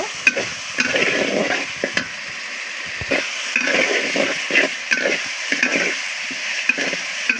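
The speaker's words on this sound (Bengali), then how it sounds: "আমি দুটো বরবটি এনেছি গাছ থেকে দুটো না চারটা এগুলো দিয়ে দিচ্ছি ভালোভাবে কষিয়ে নেব" Long beans stir-fry in a pan for a silver carp fish dish, giving a steady close sizzle with repeated scraping strokes of a spatula throughout, and no one talking.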